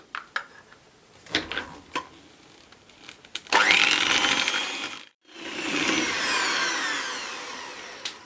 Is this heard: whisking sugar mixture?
yes